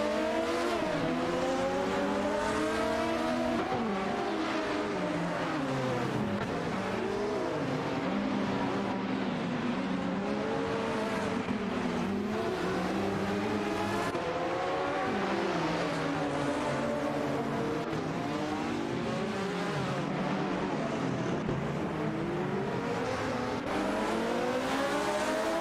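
AI race cars in a racing simulation video game roar continuously, engines revving and shifting in overlapping sweeping tones throughout, loud and steady with no voices.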